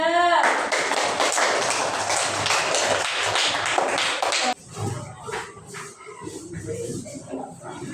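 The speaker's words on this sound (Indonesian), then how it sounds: "Tepuk tangan untuk kelompok 3." Classroom students clapping for a group presentation in an Islamic religious studies lesson, a broad burst of applause lasting about four seconds before cutting off into quieter room noise with faint voices.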